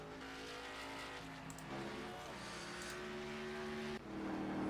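Race car circling a track during a race, engine drone held steady with gear changes and a rising whine near the end, no talking.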